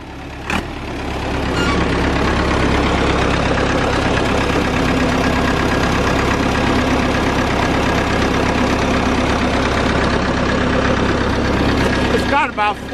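The engine of a 1969 John Deere 440A log skidder runs at a steady, loud, rough idle close by for most of the stretch, with brief clanks at the start and end and people talking over it.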